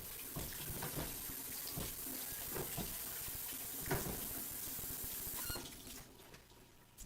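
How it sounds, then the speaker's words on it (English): Hands rinsed under a running kitchen faucet while making homemade bread: a steady, close hiss of flowing water with splashing, easing off near the end. "I'm going to pause for a second, rinse my hands off"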